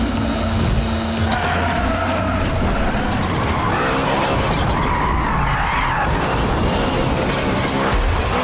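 In a video game, car tires skid in a long drift, with screeching squeals rising and falling over a loud engine and road roar that continue throughout.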